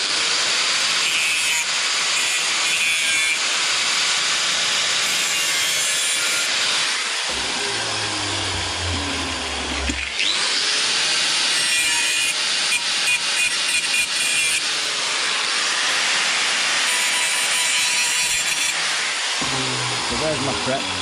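An angle grinder works a TIG-welded aluminium wheel repair in long hissing bursts of abrasive grinding, broken by a short pause where a low motor hum is heard, then the grinding resumes loud and close.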